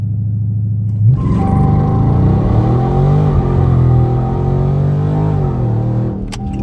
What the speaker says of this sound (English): That launch from 1600 wasn't that bad. It actually spun again.